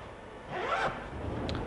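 A zipper is drawn along the upper accessory compartment of a Mirano trolley suitcase, one smooth rasping pull close up, followed by a faint short click.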